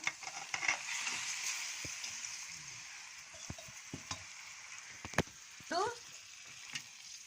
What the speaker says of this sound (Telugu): అల్లం వెల్లుల్లి పేస్ట్ బాగా ఫ్రై అయింది కదా. ఇప్పుడు చికెన్ వేసుకుంటున్నా.